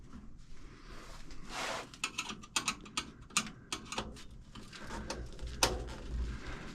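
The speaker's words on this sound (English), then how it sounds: "Well, at least these screws come out nice and easy." Screws being backed out of scrap aluminum, a series of sharp metallic clicks and ratcheting ticks at an irregular rhythm, close and moderately loud with no talking.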